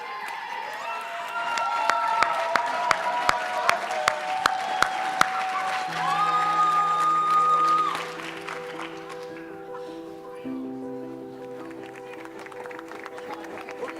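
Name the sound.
audience applause for students on stage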